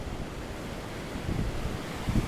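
Ocean waves wash in on a cold, windy beach, a quiet, hissing wash with gusty wind noise and a couple of soft surges near the end of the short stretch.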